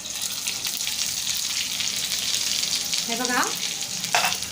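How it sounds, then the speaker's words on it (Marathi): Stuffed capsicum frying on medium heat in a pan, giving a steady, loud, continuous sizzle throughout with brief clatters near the end, and a voice saying a couple of words. "गॅस मीडियम करून 1-2 मिनिटं आपण फ्राय करून घेऊया एका साईडनं"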